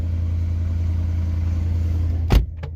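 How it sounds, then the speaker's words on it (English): A Mercedes-AMG engine runs at a steady low idle, close and even, until a sudden sharp clunk near the end. A lighter knock follows shortly after. "car's starting up"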